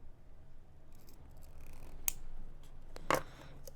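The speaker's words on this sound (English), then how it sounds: "snip that off right where it ends" Wire cutters snip through thin beading wire while a loop is shaped for jewelry, two sharp close clicks standing out over a quiet background with faint handling noise.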